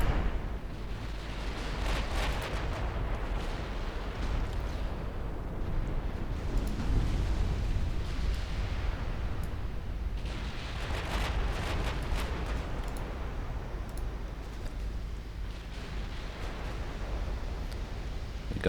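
Battleship guns thunder in an Ultimate Admiral Dreadnoughts naval battle, a dense, steady rumble of heavy cannon fire and explosions with recurring louder blasts over nearly 19 seconds.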